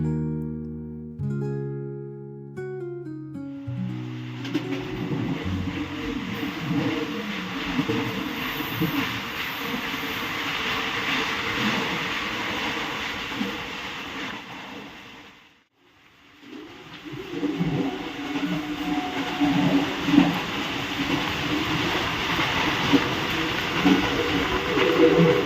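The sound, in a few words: moving train running fast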